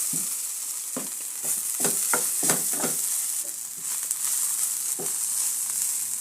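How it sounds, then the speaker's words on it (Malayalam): Okra thoran being stirred in a frying pan: about eight or nine distinct scraping strokes of a spoon over a constant sizzle, close and fairly loud, with no voices. "നന്നായി യോജിച്ച് കൊടുക്കാം"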